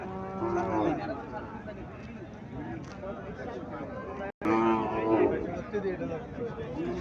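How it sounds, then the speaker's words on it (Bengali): A Sahiwal cow moos loudly twice, long drawn-out lows close by, with people chatting in the background. "এখানে আরো একটা সাইওয়াল জাতের গাভী দেখা যাচ্ছে"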